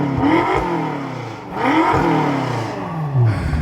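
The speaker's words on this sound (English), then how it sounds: "Let's get a little rev time with Vanessa." BMW M car fitted with an M Performance exhaust and carbon fiber tips revs twice in quick bursts, close by and loud, each blip rising and falling with a throaty exhaust note.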